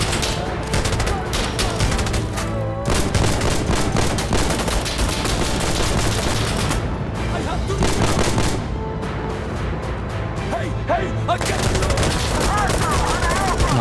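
Heavy, sustained gunfire from Insurgency: Sandstorm, with dense volleys of rifle and machine-gun shots that rattle almost without pause, a few brief lulls, and some talk mixed underneath.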